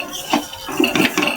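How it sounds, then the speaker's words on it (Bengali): A spoon stirs mango semolina halwa with powdered milk, cashews and raisins in a pan over low heat, scraping and clinking against the metal in short, close strokes with soft soft wet sounds between. "একভাবে নাড়তে হবে।"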